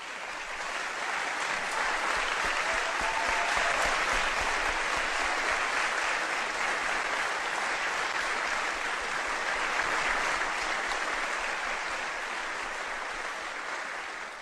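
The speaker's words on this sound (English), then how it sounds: "I ask you to give her a big round of applause." A large audience at a governor's speech in Illinois gives sustained, dense applause, a thick, even roar of clapping that holds for many seconds before tapering off at the end.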